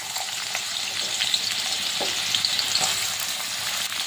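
Carrots frying in hot oil in a wok for street-style chow mein, a continuous close sizzle with a few scattered crackles and pops, heard alone with no talking.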